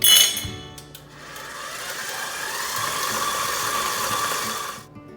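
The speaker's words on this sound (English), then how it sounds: "We are gonna turn this mixer up and we are gonna change the whole look of that frosting" An electric mixer beats thick yellow frosting for a cake, a steady close whirring drone that holds for several seconds after a brief louder start, then cuts off abruptly.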